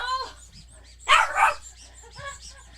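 A small dog lets out an angry burst of barking and growling in the middle of the clip, with quieter yips and whimpers before and after, fairly close and alone.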